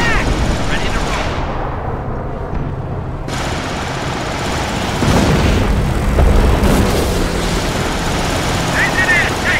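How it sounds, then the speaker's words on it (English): Machine gun fire rattles through a Company of Heroes modern combat battle, dense bursts amid explosions and engine rumble, loud and continuous with game voices talking over the action. "They have an MG on us!"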